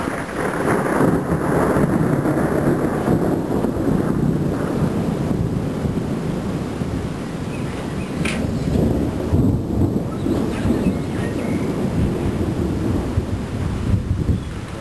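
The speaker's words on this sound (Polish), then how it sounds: "deszcz pada i napierdala" A thunderstorm over Chrzanów roars with steady heavy rain and rumbling thunder, dense and loud throughout, with wind buffeting the microphone.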